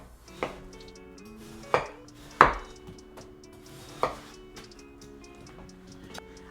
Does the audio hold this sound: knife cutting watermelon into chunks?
yes